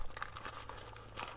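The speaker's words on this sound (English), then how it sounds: "Put the key in the bag," Car key being slipped into a fabric Faraday pouch, soft close crinkling and rustling in short bursts, fairly quiet.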